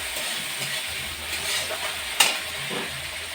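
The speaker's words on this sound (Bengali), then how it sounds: "মশলাটা কষা হচ্ছে।" A spice paste (masala) for a prawn and drumstick-flower dish fries in a pan, with a steady sizzle, stirring scrapes and one sharp utensil clink.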